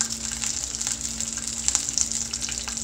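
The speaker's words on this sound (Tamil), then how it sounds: "இப்போ இது எல்லாத்தையும் ஒரு தடவை நல்லா வதக்கிக்கலாம்." Garlic, onion, and red and green chilies sautéing in a pan for radish chutney, a steady close sizzle and crackle with faint stirring, no voices.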